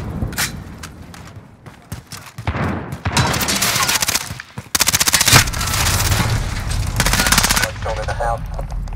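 Gunfire and a grenade blast in a shooter video game: rapid bursts of machine-gun fire, then a loud explosion near the middle, with dense shooting continuing afterward and brief voices under the action.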